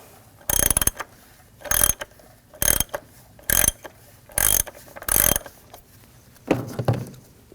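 Ratchet turning a 24mm socket to remove the oil filter cap on an Audi S4, six sharp bursts of rapid clicking at an even pace followed by a softer seventh, close and alone.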